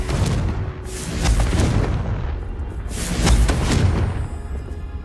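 Confringo blasting spell explosions in a Harry Potter PlayStation video game: two heavy booming blasts about two seconds apart, each with a rumbling low thud and crackling burst, over a continuous loud rumble.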